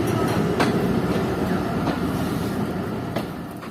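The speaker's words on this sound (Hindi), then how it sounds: "तो शाहीन पैसेंजर ने अपना सफ़र शुरू कर दिया है सियालकोट जंक्शन रेलवे स्टेशन से" The Shaheen Passenger train pulls out of Sialkot Junction railway station, a loud rolling rumble of coaches with rhythmic wheel clicks and a few sharp clanks over the joints, heard from on board.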